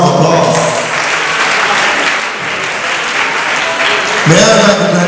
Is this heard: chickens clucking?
no